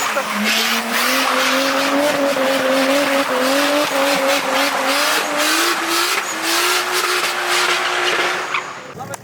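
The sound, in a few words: car engine running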